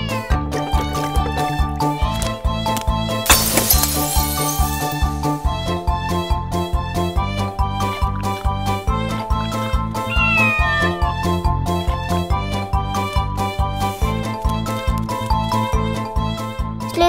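A house cat meows over cheerful animated-cartoon music, short cries rising above a steady tune with a brief bright jingle early on, loud and close throughout.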